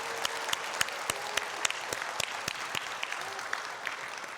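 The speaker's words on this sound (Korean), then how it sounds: "하나다 교회학교를 위해서도 큰 격려의 박수 부탁합니다." A church congregation claps together in a steady rhythmic beat during a Sunday service, sharp regular claps riding over a constant wash of crowd applause.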